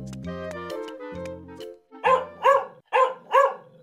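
A person imitates a dog barking, giving four loud, punchy yaps in quick succession after a stretch of tonal, humming sounds.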